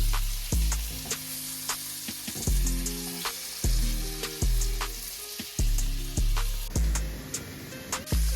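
Burger patties frying in a pan make a constant bright sizzle, punctuated by regular heavy thumping pulses about once a second.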